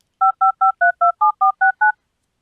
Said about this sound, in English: a recording of somebody dialing a number